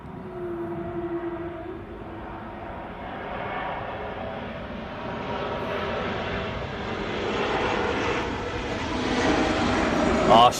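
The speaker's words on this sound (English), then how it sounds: "it didn't matter that the airplane was going over the top" An airplane passes overhead during a women's cricket match between Papua New Guinea and Scotland, a steady rising engine drone that grows louder toward the end beneath commentators talking.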